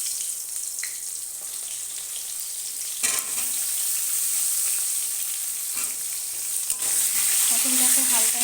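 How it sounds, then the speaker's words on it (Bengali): Pointed gourd (potol) fries lightly in a pan with a continuous close sizzle, punctuated by a few sharp clatters of stirring that bring brief bursts of louder crackling. "পটলটাকে হালকা একটু ভাজা হতে নেব"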